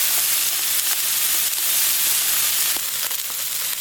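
A ribeye steak sizzling on a Camp Chef flat top griddle, a loud, close, steady hiss of frying fat with small popping crackles scattered throughout and no talking.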